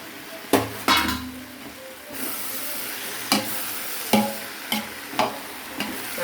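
Soya beans sauté in a pan under a soft hiss, while a spoon strikes and scrapes the metal in separate clanks spread a second or so apart, close and without talk.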